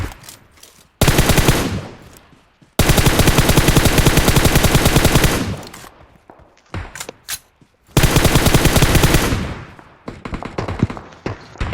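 Continuous gunfire in a shooting video game, with long loud sustained bursts of rapid shots separated by short silences and a few scattered single shots, close and overwhelming with no talking.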